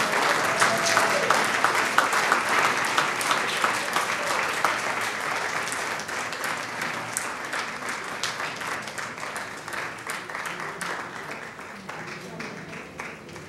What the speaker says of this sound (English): You can clap some more.